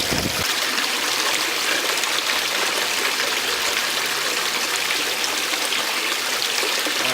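Water rushes steadily through a gold sluice box lined with matting, riffles, expanded metal and carpet, a constant close, bright gurgle and splash with no speech.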